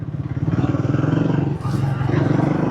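A Triumph Speed 350 cc motorcycle engine thrumming steadily while riding in traffic, a close rhythmic low-pitched pulse throughout, with a brief passing swell midway.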